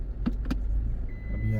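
A car reverses at a toll plaza on a broken road, a low engine hum under short thumps and clunks, with a faint mechanical tone and whine toward the end.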